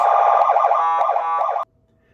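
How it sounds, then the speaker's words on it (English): A Powercall UDX7 emergency siren plays its intersection tone, a loud, rapid warbling electronic wail pulsing steadily for about a second and a half before cutting off abruptly into silence. "It has a combination of different sounds to make the intersection tone"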